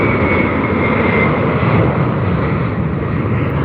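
An airplane engine roars loudly and steadily throughout, a dense continuous drone of an aircraft taking off nearby, with no talk over it.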